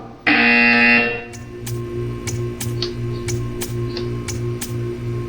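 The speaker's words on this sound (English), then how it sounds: "When you hear the buzzer, stare at the art." Portal 2 test-chamber buzzer: a loud, sustained electronic buzz lasting about a second, followed by a steady run of regular ticking clicks with a low pulsing hum beneath, no speech.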